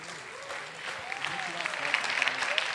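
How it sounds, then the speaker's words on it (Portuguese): Congregation at a church service claps for its leadership, applause building gradually from moderate to livelier and more distinct claps, with talking and murmurs running underneath. "Palmas aqui para a liderança."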